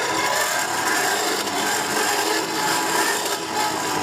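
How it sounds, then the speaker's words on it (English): A hand-cranked forge blower being turned, giving a steady, continuous whooshing rasp of rushing air and whirring gears that stays even and close throughout, with no talk. "There's the blower. Makes the traditional noise."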